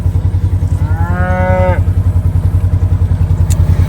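Cattle on pasture wanting to move to fresh grazing, one clear close moo rising over a loud rhythmic mechanical engine chug, with a faint clink afterward.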